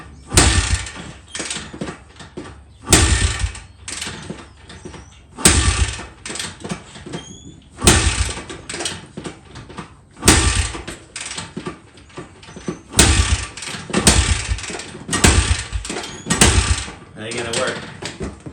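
Honda CRF 80 dirt bike being kicked over repeatedly without starting: a series of loud, sharp, irregular mechanical thumps and rattles spread through the stretch, close up, with a person talking in between.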